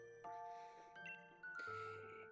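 Victory Bell jingle in a Pokemon video game: three quiet chiming bell tones struck in sequence, each ringing on briefly with a clean, tinkling tail.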